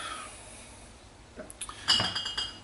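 Faint beer glass clinks and light taps near the end, a few quick knocks against a quiet background.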